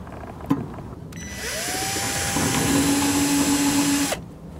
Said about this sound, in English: drill a hole in each post so that we could add a bolt